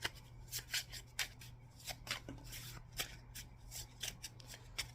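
Tarot cards being shuffled by hand for a love reading, giving a rapid run of soft papery flicks and riffles in an irregular rhythm, close-up and quiet over a low steady hum, with no speech.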